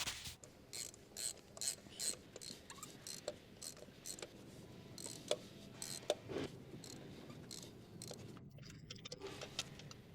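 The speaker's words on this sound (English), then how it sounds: "use your 16mm spark plug socket with an extension on your ratchet to remove the spark plugs" Close-up clicking and clattering comes from a ratchet turning a 16mm spark plug socket on an extension while the spark plugs come out of a 2014 Jeep Patriot. Irregular metallic ticks and small knocks are quiet and close, with no talk.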